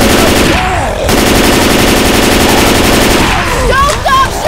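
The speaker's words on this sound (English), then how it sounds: "Don't stop shooting!" Rapid automatic gunfire in the zombie shooter Left 4 Dead 2 on Expert Realism, a loud sustained machine-gun burst with overlapping shots, while players shout over it.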